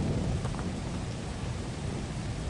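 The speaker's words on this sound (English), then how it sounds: "That noise that you just heard, that was the lightning charge." Stormy weather in the video game Lethal Company brings a steady wash of heavy rain and low thunderous rumble, with the lightning charge's crackle faint beneath it and no talking.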